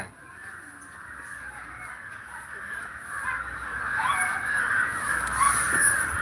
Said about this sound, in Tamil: என்ன காக்கா கிடந்து கத்துதே